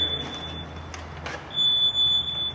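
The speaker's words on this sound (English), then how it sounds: "It's your standard smoke detector here" A high, piercing electronic tone from a battery-operated smoke detector sounds continuously, swelling louder in the latter half, close by.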